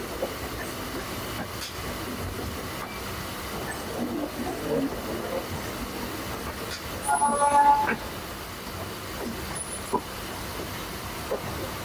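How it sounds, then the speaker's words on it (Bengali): At Howrah station the Titlagarh Ispat Express rolls in with a steady, close rumble of wheels and carriages. A brief metallic squeal and clatter rise midway through the passage. "ওটা ঢুকছে টিটলাগড় ইস্পাত এক্সপ্রেস, যেটা এখন ছাড়বে হাওড়া স্টেশন থেকে"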